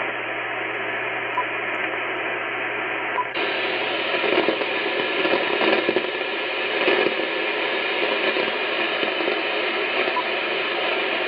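Static crashes from a thunderstorm come through AM reception on an Icom IC-9700 radio, a steady hiss with irregular crackling bursts that grows louder partway through and continues without voices.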